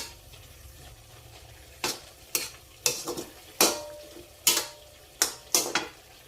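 Food gets stirred in a frying pan with a bit of soy sauce, a utensil scraping and clacking against the pan in sharp, irregular strokes about once or twice a second over a quiet background.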